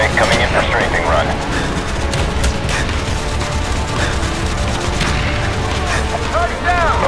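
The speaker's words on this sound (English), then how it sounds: "Coming in for strafing run." Aircraft strafing-run gunfire in Call of Duty Black Ops sounds as a dense, continuous roar of rapid shots and booms, with radio voices talking over the barrage.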